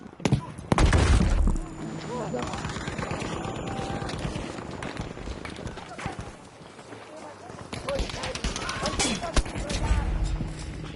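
Gunfire in the video game Battlefield V crackles in bursts and rapid volleys amid explosions and game clatter, loud and continuous while a player talks over it.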